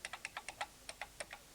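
Keys on a 1983 BBC Micro computer keyboard are tapped in a quick, slightly uneven run of about a dozen crisp clicks, close and fairly quiet, with no voice over them.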